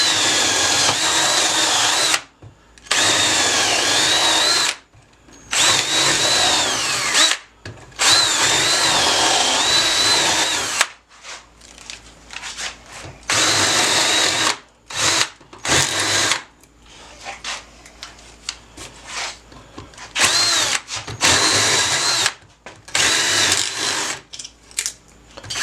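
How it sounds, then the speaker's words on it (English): A power drill tightening a clamp whirs in repeated bursts, starting and stopping every few seconds, with a high motor whine and short pauses between runs. "I'll start by using the drill"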